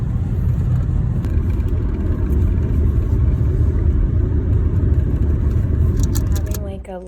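A car heading in for repairs rolls along on the road, a continuous low engine rumble and road noise from inside the cabin that holds steady and then fades near the end, with some faint clicks.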